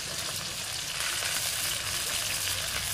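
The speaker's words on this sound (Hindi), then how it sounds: "पचफोरन को चटकने के बाद कटा हुआ प्याज डालूंगी।" Chopped onions fry in hot mustard oil tempered with panch phoron, giving a steady, dense sizzle and crackle close to the pan, continuous and fairly quiet with no talking.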